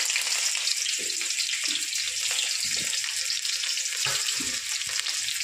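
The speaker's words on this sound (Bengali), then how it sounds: "পেঁয়াজটা হালকা করে ভেজে নেব" Chopped onions sizzle and fry in hot oil in a wok, a steady loud crackling hiss filling the whole stretch with occasional stirring scrapes, no voices.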